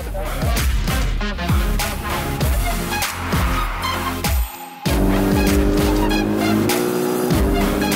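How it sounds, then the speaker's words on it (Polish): Race car at the Red Bull Ring, loud engine revs and shifting pitch with tire squeal and skidding, close and intense, a brief drop out midway, then a steady high engine tone. "Najszybsze auto świata."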